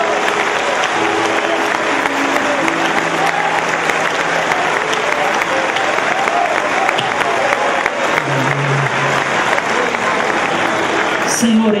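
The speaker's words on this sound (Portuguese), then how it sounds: "Pode aplaudir ao Senhor." A church congregation applauds in worship after a sermon, steady dense clapping filling the room for about twelve seconds with voices cheering faintly underneath.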